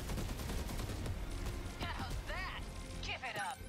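Gunfire in the video game 13 Sentinels Aegis Rim, a dense fusillade of rapid shots running throughout over game music and effects, with speech-like sweeps in the mix.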